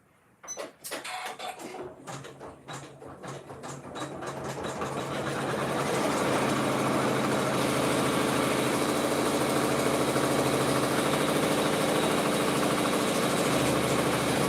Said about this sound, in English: It's gonna sew a cutting stitch, and then it's gonna cut another stitch just inside.